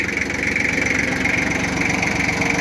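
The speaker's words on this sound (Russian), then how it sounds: "Трактор агрегатирован трехцилиндровым дизельным двигателем." A three-cylinder diesel engine on an ISEKI TS3910TC tractor runs at a steady, even idle, close and loud. It gives a continuous low throb with no talk over it.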